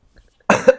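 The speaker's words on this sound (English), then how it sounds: "Cough." A single sharp cough bursts out close to the microphone after near silence, followed by a brief second expulsion.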